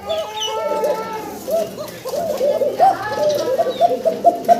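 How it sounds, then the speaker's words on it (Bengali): A male pigeon in breeding mood coos in repeated throaty, rolling phrases close by, while someone talks over the calls. "ককার কি সুন্দর ডাক এবং বিডিং মুডে আছে"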